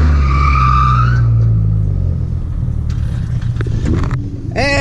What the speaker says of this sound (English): So Benny, whenever he spun out.